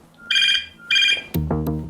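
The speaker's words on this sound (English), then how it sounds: "But while they were waiting for news, Marie's phone rang" A mobile phone rings in two bursts of an electronic ringtone, loud and close, and then a person starts speaking right after it.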